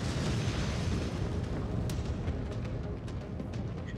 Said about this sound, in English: Use artillery like that.